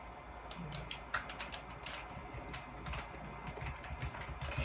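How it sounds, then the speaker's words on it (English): Computer keyboard keys pressed during a Roblox obby game, a scatter of light irregular taps and clicks with a few sharper strikes, faint against a steady low hum, no speech. "I was pressing the space bar,"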